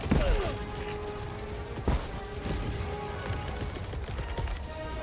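Gunfire on the bot front in the video game Helldivers 2: bursts of rapid shots with a couple of heavier crashing impacts, set against a constant background of battle noise at moderate distance.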